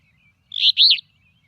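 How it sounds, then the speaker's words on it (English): An alder flycatcher sings one short, clear burst of its buzzy two-part song. The call is loud and isolated against near silence. "alder is described as being a rebeer sound. So I'll play that."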